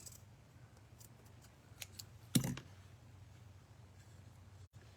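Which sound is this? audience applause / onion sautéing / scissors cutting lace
scissors cutting lace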